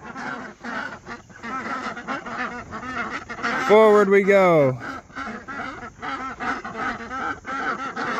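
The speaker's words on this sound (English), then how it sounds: "Watch your toes back there, ducks." A flock of ducks quacks repeatedly while being herded out of a barn on a small homestead, loud harsh calls clustering midway through, as someone speaks to them over the noise.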